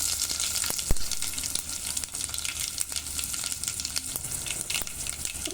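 Dried red chillies, coriander seeds, cumin, asafoetida and garlic crackle in hot oil for Andhra-style sambar. A soft, steady sizzle carries scattered sharp pops and spits.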